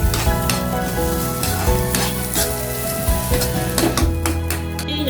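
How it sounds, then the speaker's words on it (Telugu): Grated coconut frying with a tempering of seasonings and curry leaves in a pan for an Andhra-style capsicum curry, giving a steady loud sizzle with repeated stirring scrapes throughout, no talk. "చక్కగా కొబ్బరి కూడా వేగిపోయింది అనమాట."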